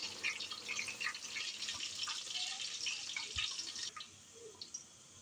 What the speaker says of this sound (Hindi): अब चावल डाल रही हूँ इसके अंदर।